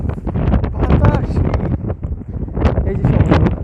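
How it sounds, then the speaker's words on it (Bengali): Strong gusting wind blows at a seashore where the Thames meets the sea, buffeting the microphone with loud, uneven rumbling bursts throughout. "বাতাস"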